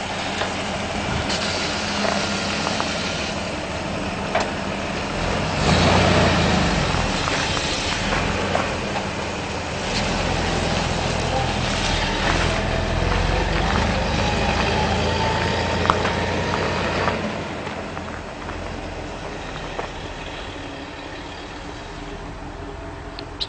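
A 1978 Toyota FJ40 with an aluminum body, restored, driving around nearby, its engine a steady broadband rumble that swells as it passes closer and eases as it moves off, with no talk over it.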